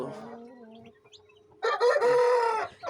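Aseel chickens calling close by: a rooster's drawn-out crow bursts in loudly after softer clucking and squawks, with no talking.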